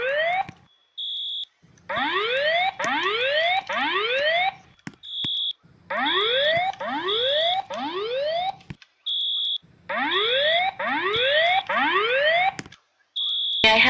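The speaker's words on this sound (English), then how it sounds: "There has been a fire alarm reported in the building." Notifier VE fire alarm tone inside a Roblox game: loud repeating groups of rising electronic whoops alternating with short high steady beeps, cycling in a regular pattern with brief gaps between sets.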